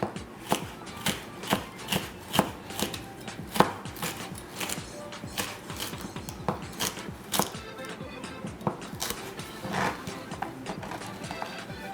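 A knife chops food on a cutting board in a culinary school kitchen, sharp regular knocks in a steady close rhythm, repeating about twice a second for the whole stretch, with no talking.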